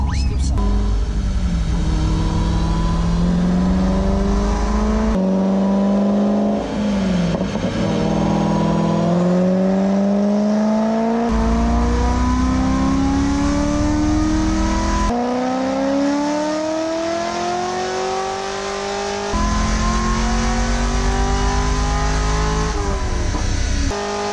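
A C6 Corvette engine revs hard on a dyno after timing was added, with loud, steady roaring pulls that climb in pitch, drop back and rise again over about twenty seconds.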